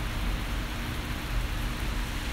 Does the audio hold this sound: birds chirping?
no